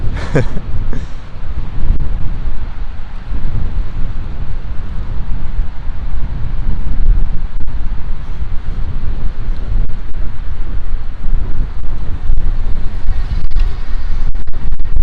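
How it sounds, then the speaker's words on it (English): Heavy wind off the Hudson River Greenway in New York City buffets the microphone throughout, a constant low rumbling roar with gusty swells and no other clear sounds. "Ooh, yeah, super windy. Sorry if you're picking some of that up"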